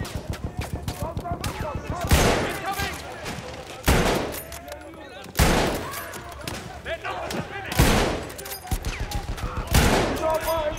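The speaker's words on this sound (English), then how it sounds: "I just shot my team in the back of the head." Battlefield 1 gunfire bursts out in repeated loud volleys, rapid automatic fire mixed with heavy single blasts roughly every one to two seconds, with a voice talking between shots.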